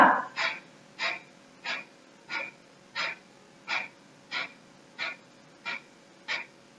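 Pranayama breathing with forceful exhales as the abs pull in: about ten sharp, rhythmic puffs of air, evenly spaced roughly every 0.6 seconds, close and clear against a quiet background.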